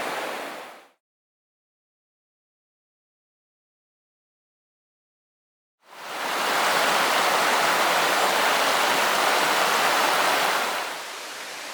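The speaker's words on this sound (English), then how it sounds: "Now we have the first waterfall of the trip." Brief rush of water at the start, a long silence, then a loud, steady roar of a waterfall on the Hoh River Trail in Olympic National Park, Washington, continuing to the end with no voices.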